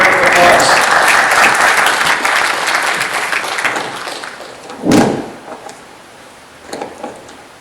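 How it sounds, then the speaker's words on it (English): Audience applause at a Dalhousie University graduate conference talk, loud at first then thinning out, followed by a thump and a few scattered claps. "do we have a round of applause?"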